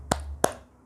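Two sharp, close hand claps from a children's clapping game sound about a third of a second apart in an otherwise quiet room.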